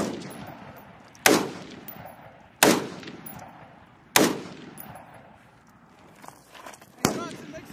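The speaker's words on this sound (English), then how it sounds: "You're receiving automatic fire." Automatic weapons fire during a U.S. Marine integrated training exercise at Twentynine Palms rings out as four loud, sharp reports spaced about a second and a half apart, each trailing off in a long outdoor echo, with voices in between.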